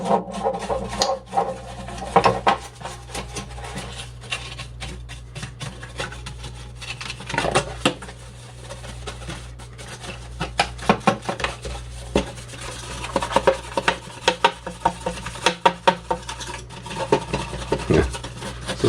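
A PlayStation 2 console casing is rubbed and scrubbed during cleaning, giving close, continuous scraping and rubbing with irregular clicks and knocks over a steady low hum.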